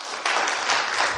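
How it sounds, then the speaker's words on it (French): Audience applause at a CCI business awards final in Hérault, Occitanie, breaking out suddenly after a brief quiet moment and continuing as a dense, steady crowd of clapping hands. "qu'on peut applaudir"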